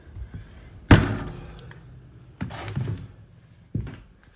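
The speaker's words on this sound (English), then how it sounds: "So let's see if we can get the door to open." A door on an off-grid prefab shed cabin is forced open, with a heavy jolting bang followed by scraping and rattling, then two more thumping shoves a second or so apart, close by and without talk.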